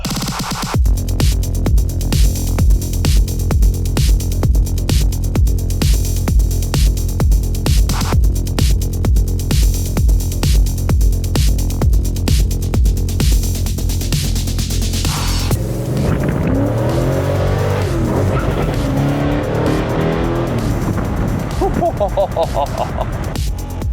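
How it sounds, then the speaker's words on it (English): A Ford AU Falcon XR8 Pursuit 250 ute, an Australian V8 muscle ute, rumbles with a deep pulsing engine throb that suddenly shifts midway into a rising, changing engine note as it drives off, loud and close throughout. "This is the Ford AU Falcon XR8 Pursuit 250"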